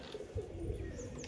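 A male Jagmukhi pigeon coos softly at close range, a couple of low rolling coos over a steady background hum, with faint bird chirps higher up.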